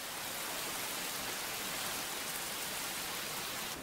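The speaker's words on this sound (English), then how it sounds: "Just rain. Heavy, frequent." Dense, steady downpour of heavy rain, a constant hissing wash of water with no pauses or voices.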